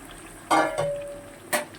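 Crabs go into a hot pan in a Bengali kitchen, bringing a short clatter and a bright hiss over a soft background sizzle, with a second sharp knock a moment later.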